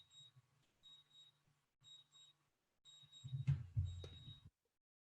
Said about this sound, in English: You can probably hear that the drone in the office is beeping as well.